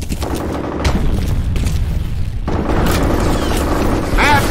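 Grenade blast in the shooter game F.E.A.R., a loud continuous boom and rumble with scattered gunfire cracks over several seconds, followed by a fresh surge of explosive noise partway through.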